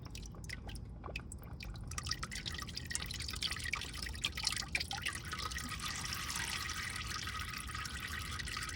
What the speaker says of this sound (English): we got this oil filter loose and draining here